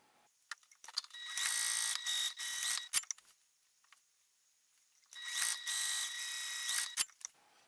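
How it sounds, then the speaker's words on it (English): A sewing machine stitches across the top of a tote bag in two long buzzing runs, separated by a quiet pause and scattered clicks, close and fairly loud. "we're going to sew across the top"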